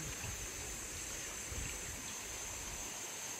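A river flows with a steady, faint, even rush of water and no talking, heard outdoors near a village.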